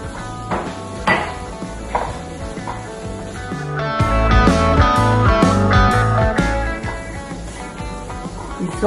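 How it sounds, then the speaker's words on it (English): Shimeji mushrooms sautéing in a pan, with utensil clatter and scraping over a growing sizzle that swells midway and stays loud and close before easing slightly. "We saute the mushrooms till they're about cooked."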